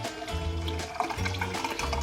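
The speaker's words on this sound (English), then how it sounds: "And we're just gonna pour that in." Cold brew coffee concentrate pours steadily from a French press into a container, a continuous close-up liquid splash and trickle with no talking.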